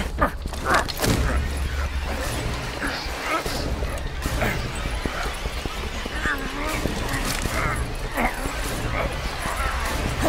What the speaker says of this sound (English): Street dogs.